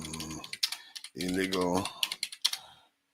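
Someone types on a computer keyboard in a quick run of close, crisp key clicks while a person talks over it.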